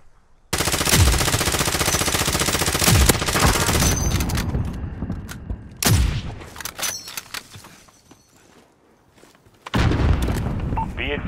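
Gunfire in Call of Duty Modern Warfare: loud bursts of automatic weapon fire and heavy booms, a long barrage that breaks off, returns, and drops to quiet before restarting, with radio voices talking.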